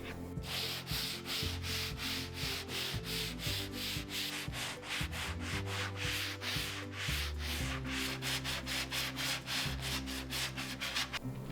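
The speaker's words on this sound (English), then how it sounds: "So I'm just going to hand sand this to bring back some of the natural wood and wood grain." Oak wood centerpiece hand sanded to expose the natural grain, a loud, close, continuous rhythm of quick back-and-forth scratchy strokes with no talking.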